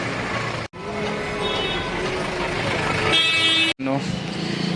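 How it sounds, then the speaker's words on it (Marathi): Busy evening road traffic in Indore seen from a rickshaw, with engines droning and car horns tooting repeatedly, loud and close, interrupted by two short breaks, while voices talk over it. "उज्जैनला चाललो आहे आणि ट्रॅफिक बघा केवढं आहे."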